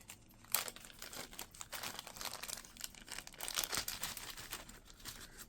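Soft plastic bag crinkling and rustling as it is opened and handled up close, a steady irregular crackle throughout with a sharper crunch near the start; craft supplies such as white iridescent sequins and rhinestones are inside.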